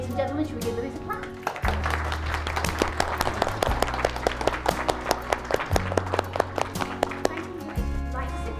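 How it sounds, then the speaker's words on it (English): Wedding guests at a hotel reception clapping, a sharp, rhythmic burst of hand claps over loud music with sustained bass notes, lively and continuous. "shall we give Lewis a clap?"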